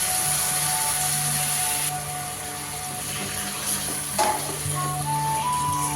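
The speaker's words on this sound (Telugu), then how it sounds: "చికెన్ వేసేసుకొని తర్వాత నీట్గా కలిపేసుకోవాలి" Chicken for a curry sizzles in a frying pan as it is stirred, giving a steady, close hiss over a low hum, with a brief scrape partway through.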